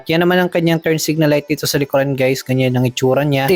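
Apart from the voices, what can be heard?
No distinct noise like a dog, phone or traffic.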